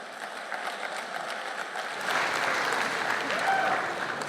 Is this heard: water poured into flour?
no